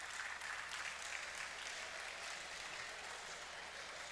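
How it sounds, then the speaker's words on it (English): A convocation audience at a university alumni day claps in a faint, steady, distant-sounding patter that holds evenly for a few seconds, with no clear voices. "So which means I thought you would clap."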